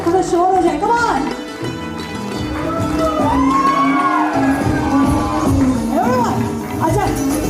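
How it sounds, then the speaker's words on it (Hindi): A crowd at an indoor hotel launch event cheers and shouts in a loud, continuous roar with whoops and rising voices that persist across several seconds. "थोड़ा तालियां, थोड़ा शोर हो जाए, कम ऑन।"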